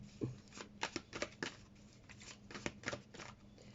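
Tarot cards are shuffled by hand for a reading, a close, quiet run of papery riffles and snaps in short bursts with brief pauses between them.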